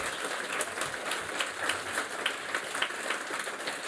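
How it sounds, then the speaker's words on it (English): An audience at a writers' award showcase at the Southbank Centre applauds the winners, a steady, dense wash of many hands clapping at moderate loudness throughout. "I think we need another round of applause for all of you."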